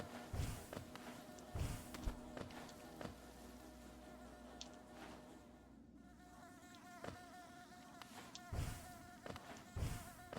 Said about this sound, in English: We don't want to hurt these cute little bees if we don't have to.